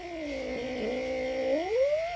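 A cat gives one long, drawn-out meow that dips and then rises, close and fairly loud over a steady clipper hum while it is being shaved.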